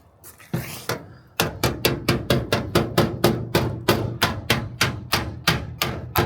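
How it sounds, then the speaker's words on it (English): Steady metal hammering out dents in a 1963 car's body, about three blows per second in a regular rhythm, close and loud, each strike ringing briefly against a sheet-metal panel. "just hammering some dents out"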